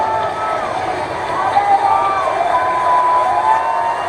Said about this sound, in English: Crowd trying to inspire her to let that one go.